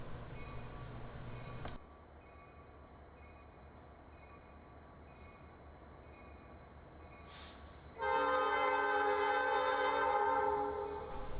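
A Bessemer and Lake Erie Railroad freight train rolls through Conneautville, Pennsylvania at restricted speed, giving a steady low rumble. A loud, sustained multi-tone horn blast comes late and lingers near the end.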